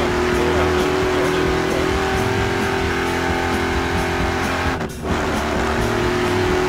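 A video game car engine hums and revs steadily in Battlefield Hardline, with a brief tire squeal and a passing whoosh midway, loud and continuous.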